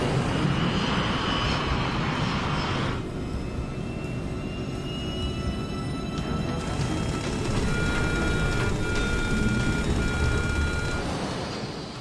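Airliner engines roar in a steady, heavy wash during a takeoff roll on a runway, swelling as power builds, with a thin repeating warning tone sounding above the noise.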